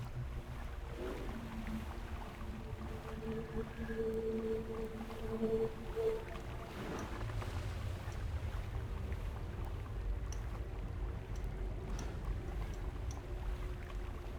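A boat engine in the video game Guild Wars 2: End of Dragons hums low and steady, with water washing and a few faint tones drifting over it.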